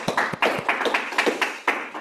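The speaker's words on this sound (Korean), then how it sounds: "그 큰 박수 한번 일단 치시고" A small audience at a talk on artificial intelligence gives a few sharp, close claps in an uneven rhythm, clear and isolated rather than a full ovation.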